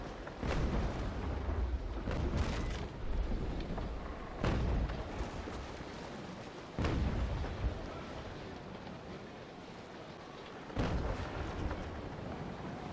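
Heavy booming cannon shots from sailing warships in the video game Naval Action fire one at a time, several over the span with pauses between, loud against a steady rumbling background.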